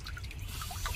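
Water runs and trickles out of something broken, a steady close splashing flow lasting about a second with no talk over it.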